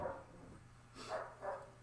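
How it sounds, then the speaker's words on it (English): A large dog barks several times from upstairs inside a house, a few spaced, moderately loud barks muffled by the floor between them. "Jeez, that dog's loud."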